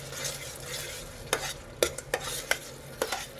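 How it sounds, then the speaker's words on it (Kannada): Tomato puree frying in a pan for Punjabi-style dum aloo, a soft sizzle under several sharp spoon scrapes and taps that come in an uneven run in the second half, close by. "ಈ ಟೊಮ್ಯಾಟೊನೂ ಕೂಡ ಹಸಿ ವಾಸನೆ ನಮಗೆ ಹೋಗೋವರೆಗೂ ಚೆನ್ನಾಗಿ ಫ್ರೈ ಮಾಡ್ಕೊಳ್ಳಿ."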